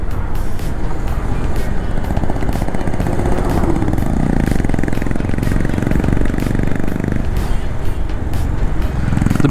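Honda Big Wing motorcycle engine heard while riding through corners on a coast-to-hills route, a loud continuous engine drone mixed with heavy wind rush, no talk.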